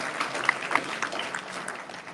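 Audience applause for a panelist at a panel discussion on rap lyrics on trial, a steady wash of clapping with a few sharper claps standing out, moderately loud throughout and with no talking.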